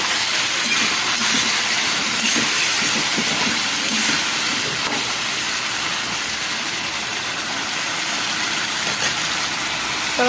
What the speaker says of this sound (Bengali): মশলাটাকে ভালো করে কষি।